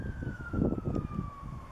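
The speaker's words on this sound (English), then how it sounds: "You can hear the police sirens in the back." A police siren wails faintly in the distance over a city near Chester Zoo, a thin steady falling tone heard beneath wind and low outdoor rumble.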